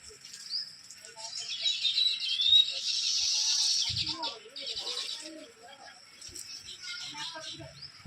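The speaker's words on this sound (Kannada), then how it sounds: "ಪಕ್ಷಿಗಳು ಆಟ ಆಡ್ತಿದ್ದಾವೆ ಗಿಡದಲ್ಲಿ" Small birds chirp and tweet in a tree in repeated high bursts, fairly close, during light drizzle, over a quiet background with a few low murmurs.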